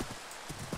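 Skeleton horse in Minecraft trotting with quick, soft clip-clop hoof steps, faint and brief, in a game setting.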